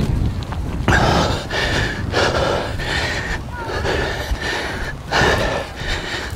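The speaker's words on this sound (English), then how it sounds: "I'm breathing a bit heavy" Heavy, ragged breathing close to the mic as someone moves near a spreading grass wildfire on the Exmouth sea front in Devon, with repeated gasping breaths and snorts over wind noise.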